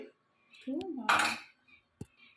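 A metal lid comes off a pot of vegetarian moong dal with pointed gourd, clinking and scraping against the rim in a couple of short clatters, with a brief faint voice in between.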